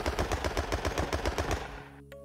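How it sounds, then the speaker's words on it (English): A jack-in-the-box fires a gun in the horror game Carnival Massacre, a rapid, loud, even burst of about a dozen shots that stops abruptly, followed by a few quiet tonal game sounds. "I'm being shot by a jack-in-the-box!"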